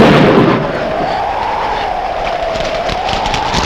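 Thunder during a rainstorm, a loud close rumbling crash at the start that settles into a long, steady roar, with no voices.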